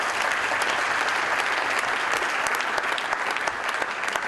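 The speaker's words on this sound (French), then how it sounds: "Je vous demande de l'applaudir parce que c'est plus que mérité." An audience applauds steadily, a dense wash of many hands clapping at close range throughout, with no one speaking over it.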